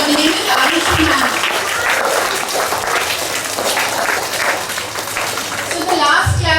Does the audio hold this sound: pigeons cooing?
no